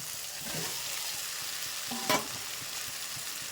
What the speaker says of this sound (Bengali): তো মশলা আমার কষানো হয়ে গেছে এবার দিয়ে দেবো আলু